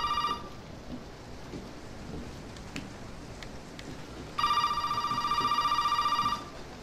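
A telephone rings in the Resident Evil 7 horror video game, its bright electronic tone sounding in two bursts, a short one at the start and a longer one near the end, over a steady background of rain and thunder.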